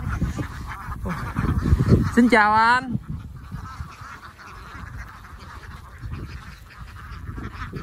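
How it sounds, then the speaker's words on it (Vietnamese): A herded flock of ducks in rural Trà Vinh, Vietnam, honking and quacking in a busy chorus that peaks early. Someone speaks briefly over it, then the calls thin out into softer background noise. "Mà có bầy vịt quá đã vậy"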